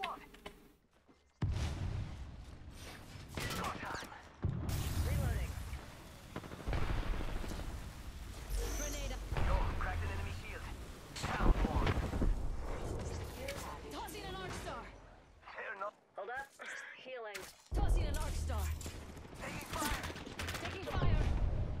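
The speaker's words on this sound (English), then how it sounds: "They're shooting at me. Under fire." Enemy gunfire in a shooting video game: dense, repeated bursts of shots and crashing impacts throughout, with a player talking over them.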